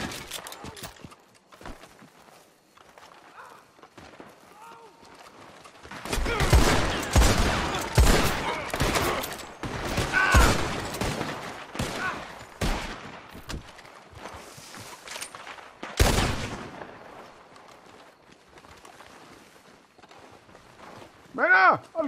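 Gunfire in a GTA roleplay game, a hostage situation at a cave in the north: bursts of rapid shots come in clusters, loud and close, with quieter gaps and people talking in between.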